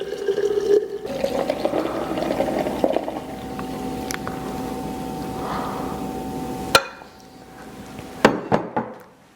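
Wax-stripping solution is poured into smaller containers during an Airstream wax-removal test, giving a continuous liquid splash and trickle with a few hard clunks and knocks near the end.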